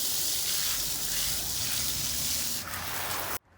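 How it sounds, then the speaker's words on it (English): Water pours steadily from a hose or can onto soil over freshly planted flower bulbs, a continuous close hiss and splash that cuts off abruptly near the end. "Every time you plant your bulbs, you want to make sure you water them."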